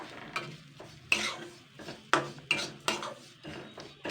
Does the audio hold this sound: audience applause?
no